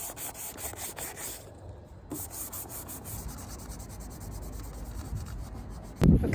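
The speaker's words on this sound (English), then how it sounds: "going to sand the other side" Body filler on a Greddy-style front lip for a Toyota MR2 is hand-sanded in quick repeated rasping strokes, close and steady with brief pauses, ending in a louder scrape.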